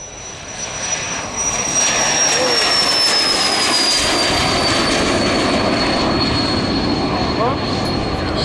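An Eclipse EA500 small business jet's engines whine with a high steady tone, swelling into a loud sustained roar as it powers up and rolls away on takeoff.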